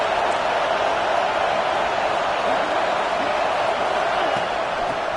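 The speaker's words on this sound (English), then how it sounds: "And here comes the noise. This crowd is trying to inspire this defense to make a big red zone stop." Stadium crowd noise at an LSU vs Texas football game during a red zone defensive stand forms a steady, loud roar of many voices that holds constant throughout.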